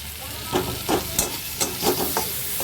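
Spices with cumin powder stirred in a frying pan for a vegetarian potato, pointed gourd and pumpkin curry; a soft sizzle under repeated scraping strokes of a spatula, several separate scrapes at an irregular pace, close and without speech.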